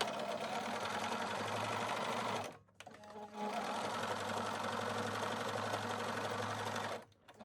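A sewing machine quilts an X onto casserole dish pot holders, running in a steady, close mechanical whir that pauses briefly partway through and again near the end.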